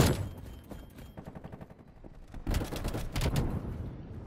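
Rapid bursts of strafe-run gunfire in Black Ops Cold War rattle in dense, fast volleys, easing for a moment and then building into louder, heavier clusters of shots toward the end.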